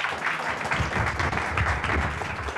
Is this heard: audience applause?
yes